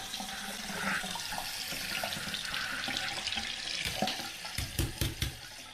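Tap water runs steadily into a sink as a razor is rinsed beneath it, a close continuous splashing flow ending in a few sharp knocks or taps of the razor against the basin.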